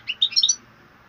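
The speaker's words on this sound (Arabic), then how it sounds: "هذا حسون متاعي الله يبارك." A caged goldfinch sings a quick burst of bright, high twittering notes, close and clear, then falls quiet over a faint low background hum.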